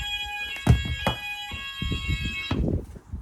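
An Apollo fire alarm sounder rings during a test of an MxPro4400 panel, a steady electronic tone with bright harmonic lines that cuts out partway, leaving knocks and handling thumps indoors.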